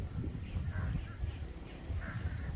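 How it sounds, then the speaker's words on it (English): Crows caw outside, a few faint and distant calls rising over a steady, noisy background. "I got a lot of bird noises distracting me."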